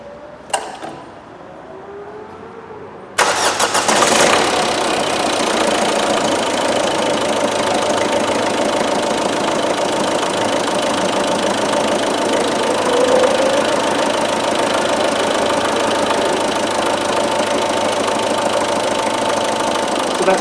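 A Ford Fiesta 1.6 TDCi diesel engine catches after a brief quiet start and settles into a steady, close idle with a rough knocking clatter that stays even throughout.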